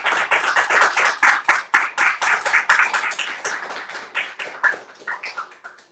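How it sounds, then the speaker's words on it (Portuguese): A church congregation applauding, a loud close burst of dense, rhythmic hand claps that keeps pulsing steadily before thinning out and fading toward the end. "dê uma forte salva de palmas para o nosso"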